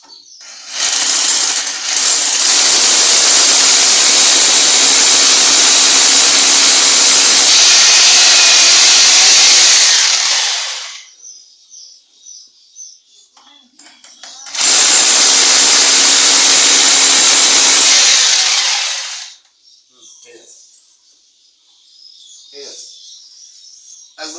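An electric drill bores a hole into a wall for a Rawl plug while a basin is being mounted. Two long, loud, close drilling runs, one about nine seconds and one about five, are separated by quiet gaps with faint chirps.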